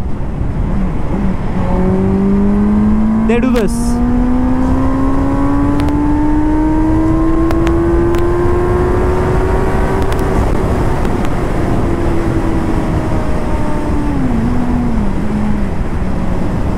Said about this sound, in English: You see the amount of time that I took to hit the red line.